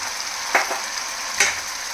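Ginger garlic paste fries with onions in a pan, giving a steady close sizzle with two brief louder crackles as it is stirred, and no voices.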